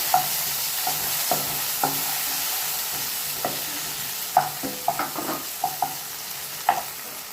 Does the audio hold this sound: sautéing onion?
yes